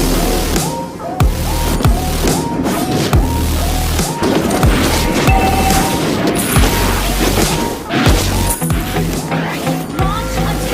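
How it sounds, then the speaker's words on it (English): A turret is destroyed during a video game battle: repeated heavy booms and crashing impacts land in quick succession over dense, busy game effects and music, loud and close throughout. "Your team destroyed the turret."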